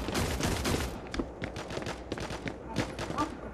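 AK rifle fire in the shooter game Hyper Front, a run of sharp shots in bursts with brief pauses, loud and close, a voice talking faintly now and then.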